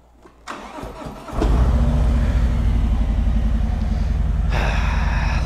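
A 2022 Harley-Davidson Street Glide Special FLHXS cranks for a second, then catches and settles into a loud, close, throbbing idle, with a brief rise in revs near the end.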